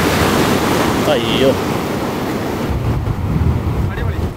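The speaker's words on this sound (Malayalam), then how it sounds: "തിരമാലകൾ വരുമ്പോഴാണ് ഇതിൻ്റെ ഭംഗികൾ കൂടുതൽ വരുന്നത്" Ocean waves wash in at the Kozhikode floating bridge on the Kerala coast, a loud continuous surf roar mixed with heavy wind buffeting, with a brief exclamation from a voice.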